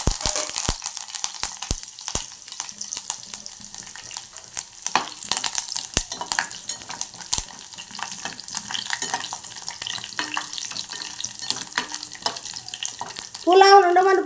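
Cumin seeds and curry leaves frying in hot oil for a red chutney, giving a steady close crackle and sizzle with scattered sharp pops and a louder burst of spattering near the end.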